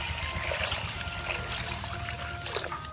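Spring water pours into a hot pot of broth with hot pot base, chilies, scallion, ginger and garlic, a steady close trickling stream over a low background hum.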